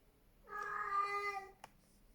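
A cat in heat lets out a single drawn-out, tonal meow lasting about a second, close and clear against a quiet background, followed by a brief faint click.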